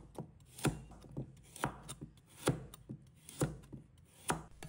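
A knife chops a carrot into small pieces on a cutting board, with steady sharp thuds about every half second, close and clear and with no talking.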